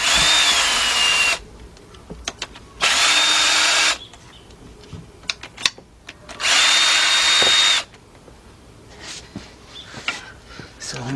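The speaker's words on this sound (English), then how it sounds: "I got my cordless gun here, got my 10mm deep 3/8 drive socket." A cordless impact gun with a 10mm deep 3/8-drive socket whirs in three loud bursts on the transmission pan bolts of a Chrysler Sebring or Dodge Journey or Avenger, separated by quiet gaps with small clicks and clanks.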